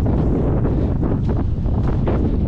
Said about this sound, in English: the weather is not the best. It's really windy.